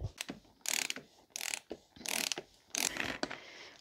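A ratcheting tool clicks in short bursts as a bicycle bottom bracket is tightened toward 40 newton meters of torque, each burst of rapid pawl clicks separated by brief pauses, close up with no talking.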